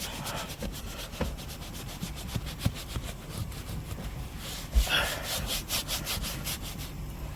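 Brush scrubbing against a stained car interior surface to loosen grime, rapid repetitive rubbing strokes in a steady back-and-forth rhythm, close and fairly faint, with a brief louder scuff midway.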